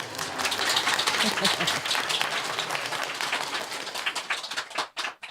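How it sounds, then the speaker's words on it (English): Warm applause from an audience at a Buddhist talk, steady dense clapping that thins out and fades near the end. "You can clap again if you like, if you're happy"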